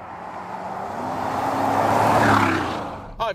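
A remapped first-generation Porsche Cayenne accelerating hard, its engine note rising in pitch and loudness as it pulls, then a brief clunk or shift at the very end.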